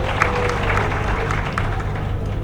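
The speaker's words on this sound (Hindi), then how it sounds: "बहुत ज्यादा तालियां" Audience applause rises during an online class recording, a dense patter of many hands clapping at steady loudness throughout, with faint voices mixed underneath.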